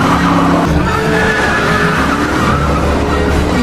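Car in a film scene accelerating hard with screeching tires, a loud continuous roar and squeal close up, steady throughout with no talk.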